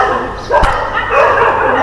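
Several street dogs bark and yip together in the distance, a brief burst of overlapping barking mixed with voices and outdoor background noise.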